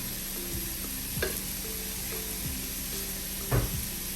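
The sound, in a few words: onions, green chillies and curry leaves sautéing with salt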